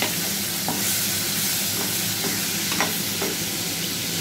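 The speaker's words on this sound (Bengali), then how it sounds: "পনিরটা একটু ভাজবো, বেশি না, খুব অল্প ভাজবো।" Large unseasoned paneer pieces frying lightly in a pan give a loud, steady sizzling hiss throughout, with a few faint stirring clicks on top, close up and without any voices.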